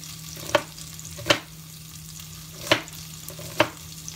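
Chopped red onion tossed into a hot pan, a low steady sizzle running under four sharp clattering stirs or scrapes spaced irregularly, fairly quiet overall with no voices.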